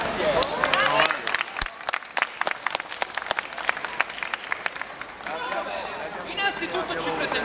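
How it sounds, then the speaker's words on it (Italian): Audience applause at the opening of a dance crew show in Turin, dense clapping that thins into scattered claps with crowd noise, and someone talking near the end. "Fateci un forte applauso di incoraggiamento"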